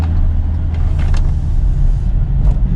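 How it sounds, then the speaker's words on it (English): Inside a Hyundai Venue on the move, a loud, constant low roar of road and tyre noise fills the cabin, with a few faint higher swishes passing over it. "so far I can tell it does have quite a bit of road noise"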